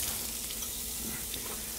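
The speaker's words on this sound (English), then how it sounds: "My butter is just starting to sizzle" Butter sizzles in a hot pan ahead of soup-making, a steady, close crackling hiss that runs evenly throughout without speech.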